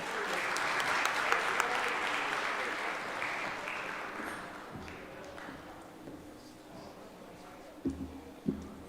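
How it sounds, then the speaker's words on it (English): At a law faculty awards ceremony, sustained applause from a crowd fills the first half, then gradually thins out, ending with a couple of louder thumps near the close. "let us clap for our Lifetime Achievement Awards"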